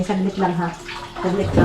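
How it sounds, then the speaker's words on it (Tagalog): Water runs from a tap into a container as a steady splashing flow, mostly masked by a nearby voice that talks over it throughout. "Magpundro naman ako ng tubig mga maninay."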